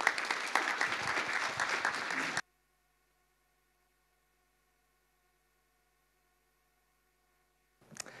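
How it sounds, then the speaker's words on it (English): A conference audience claps for a speaker in a burst of dense applause lasting a couple of seconds, then cuts to near silence before a faint return of clapping at the end. "Give him an applause."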